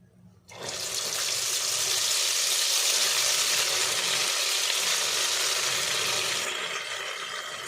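Beaten egg is poured into a hot kadai and sizzles immediately, a loud continuous hiss starting abruptly and holding steady for several seconds before easing slightly.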